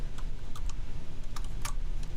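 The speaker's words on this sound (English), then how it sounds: "I'm typing that in and nothing's popping up." Computer keyboard typing, a run of quick irregular key clicks close by, steady and alone with no voices over it.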